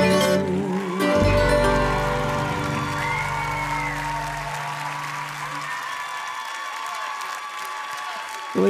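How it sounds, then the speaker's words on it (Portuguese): Live audience applause at a televised singing competition broadcast, a broad wash of clapping that swells after the sung ballad ends and continues steadily under lingering band notes. "um aplauso também para os nossos músicos"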